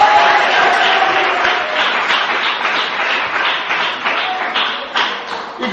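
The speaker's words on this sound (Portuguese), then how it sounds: "Palmas para Jesus" A church congregation claps together during worship, a dense, fairly loud wash of many hands with a loose beat running through it and no voices on top.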